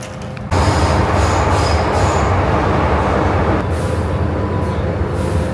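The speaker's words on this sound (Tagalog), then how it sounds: "Riding the train." Train ride in Hong Kong, with a loud rumbling carriage and rattling wheels starting abruptly and holding steady, plus faint squealing tones from the rails.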